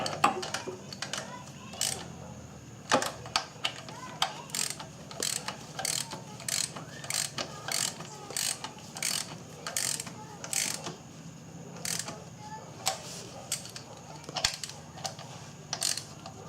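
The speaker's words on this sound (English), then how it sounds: "I'm going to use an inch-pound torque wrench." An inch-pound torque wrench ratchets as it snugs down the power steering pump bolts on a Volkswagen Jetta, giving quick bursts of sharp clicks repeated steadily at close range over faint background noise.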